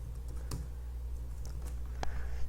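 A few quiet, isolated keystrokes on a computer keyboard while typing a terminal command, soft clicks spaced irregularly over a low steady hum.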